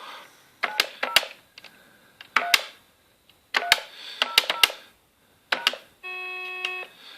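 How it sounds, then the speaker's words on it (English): A series of quick electronic keypad beeps in bursts on a SOHO-308C PBX phone system, followed by a steady, sustained confirmation tone after pressing hash; no talking. "once you hear that tone after you've pressed hash, it signals that it's complete"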